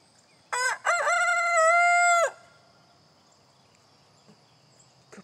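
A rooster among backyard chickens crows once nearby, a loud cock-a-doodle-doo beginning with two short rising notes and ending in a long held call, followed by quiet surroundings with faint clicks.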